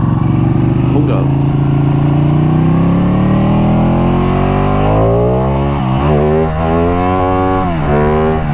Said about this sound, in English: you gotta admit, man, this bike sounds good.